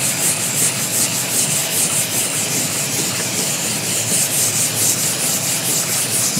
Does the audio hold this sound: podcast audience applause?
no